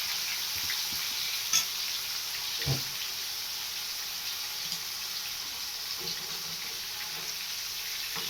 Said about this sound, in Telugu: ఫ్రై కోసం పెట్టుకున్న ఫిష్ అండి వేస్తున్నాండి